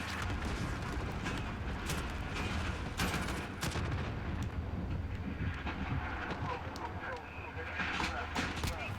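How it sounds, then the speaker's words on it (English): Steady gunfire rattles through a Modern Warfare battle, a dense continuous barrage of shots and booms under frequent talking throughout. "Somewhere around here that this firing is happening at."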